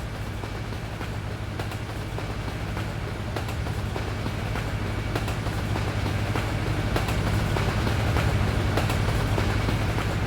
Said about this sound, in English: The train's a bit loud.